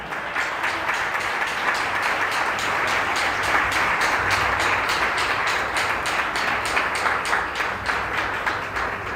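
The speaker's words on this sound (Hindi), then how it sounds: "सब अपने लिए तालियां बजाएं जी।" A church congregation claps and applauds steadily for several seconds, a dense, continuous wash of hand claps with no one speaking over it.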